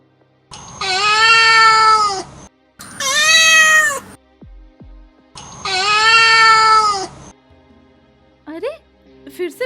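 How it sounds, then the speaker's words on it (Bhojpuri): A cartoon cat meows three times, long loud drawn-out cries separated by brief pauses, followed by a few short knocks and a faint squeaky sound at the end. "अरे फिर से बिलाई की आवाज"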